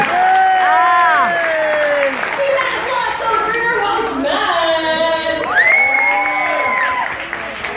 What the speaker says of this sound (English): Let's give another huge round of applause for our players out here tonight